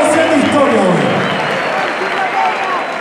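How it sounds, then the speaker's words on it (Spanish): Crowd at the God Level Fest 2017 freestyle rap battle final between two rappers claps and cheers loudly and steadily, with voices shouting over the dense applause throughout. "Un fuerte aplauso"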